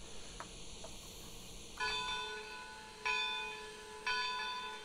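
A church bell in the train simulator Trainz 2022 on the Mantiqueira Mountains route tolls three times at an even, slow pace, each ringing strike decaying over a steady low ambient hum with no talking.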